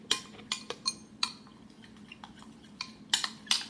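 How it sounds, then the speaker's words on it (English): A utensil stirs aloe vera gel into a homemade turmeric and honey face cream, tapping and clinking against the container in quiet, irregular strokes. "So we're going to stir that in there."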